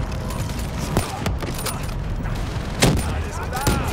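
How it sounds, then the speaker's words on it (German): Grenade launcher blasts and rapid gunfire from the Xbox One game Call of Duty Black Ops 3 crackle densely throughout, with sharp loud reports standing out over continuous battle noise. "Werfergranate! Granate geworfen!"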